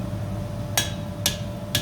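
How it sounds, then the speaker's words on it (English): Three sharp, ringing hammer blows on hot iron chain link worked over the bick of an anvil in nineteenth-century English chainmaking, spaced about half a second apart over a low steady hum. "hammer it over the bick, which is the hook on the front of the anvil"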